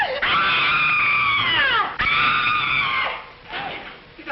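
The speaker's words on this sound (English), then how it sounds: "Did I hear somebody scream?" Two long, loud screams, one after the other with a brief break near two seconds, trail off into fainter cries toward the end. The setting is a classic horror-comedy film.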